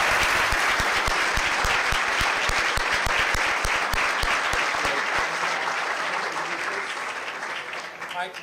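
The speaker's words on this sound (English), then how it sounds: "A round of applause." A large audience applauds steadily, with dense, sustained clapping that holds strong before gradually thinning out toward the end, while a voice speaks over it.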